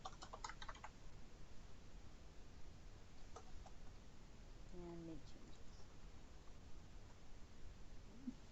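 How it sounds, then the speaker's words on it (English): Quiet keyboard typing at a computer, with soft scattered keystrokes under a low room hiss and a brief faint chirp partway through. "I'm typing in everything"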